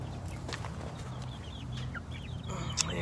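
Chickens cluck in a backyard chicken coop, a steady overlapping chorus of soft clucks and chirpy calls from several birds close by, with a few sharper calls near the end.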